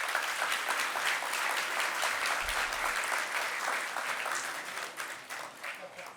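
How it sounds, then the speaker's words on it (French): An audience at a mayor's New Year wishes ceremony applauds the introduction of the first deputy mayor, a steady wash of many hands clapping that gradually thins toward the end. "que je vous demande d'applaudir"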